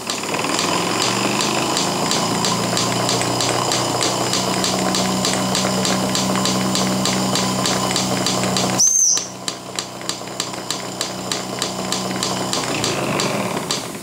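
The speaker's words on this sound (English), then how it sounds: "Safety valve still lifting." A steam locomotive's safety valve lifts and vents steam in a steady, loud hiss, with a sharp high whistle-like burst near the end before the roar eases and continues unevenly.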